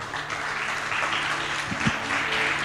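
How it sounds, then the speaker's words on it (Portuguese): Applause from a large church congregation rises and fills the room evenly, sustained and slightly distant, with a few faint voices mixed in. "Você pode aplaudir a Jesus?"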